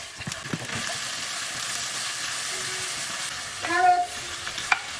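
Beef strips sizzle steadily in a hot stir-fry pan with onion, a continuous frying hiss with a brief louder burst of sizzle near the end.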